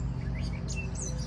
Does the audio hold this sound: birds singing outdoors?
yes